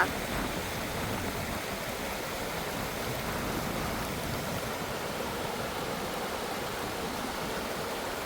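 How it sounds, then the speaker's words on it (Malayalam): A river flows past in the countryside, heard as a steady, unbroken broadband rush of moving water at moderate level, with no talking. "ആ പുഴ ഒഴുകി വരുന്നത് അങ്ങനെ കേട്ടാ"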